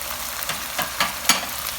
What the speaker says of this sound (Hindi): कैप्सिकम को भी ऐड करके हम इसको तकरीबन 1 मिनट तक पकाएंगे।